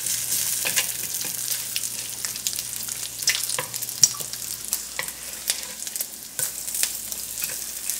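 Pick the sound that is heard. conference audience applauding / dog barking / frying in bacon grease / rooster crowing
frying in bacon grease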